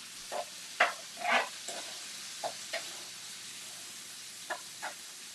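Salted tomatoes cooking in a pan, giving faint sizzling hisses and soft scattered pops spaced irregularly across a quiet kitchen background.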